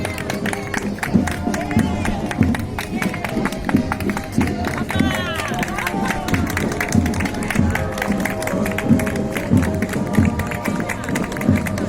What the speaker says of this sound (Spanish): Pide el aplauso, pide el aplauso.